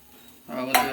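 Ghee hitting a hot pan and sizzling, starting halfway through as a soft hiss that swells with a brief clink of a utensil against the metal, close and quiet with no talk.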